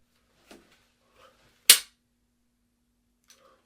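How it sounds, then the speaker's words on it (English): A single sharp gunshot aimed at a shooting target, loud and close, with a few faint clicks and small handling noises before and after in otherwise quiet surroundings. "That was a really good shot."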